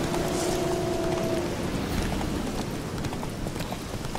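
Horse hooves clip-clop in The Witcher 3 video game, a steady run of light, regular steps over a constant background wash of ambient game sound, with no one talking.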